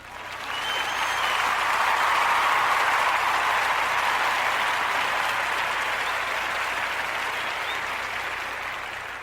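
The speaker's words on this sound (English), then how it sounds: "I want to give my class, my class cohort number 9, a round of applause" Sustained, dense applause from an audience honoring a graduating cohort of a twelve-week community program, steady and loud throughout before easing slightly at the end.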